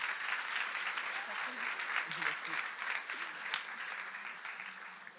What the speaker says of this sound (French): Amen, on peut applaudir Nathan.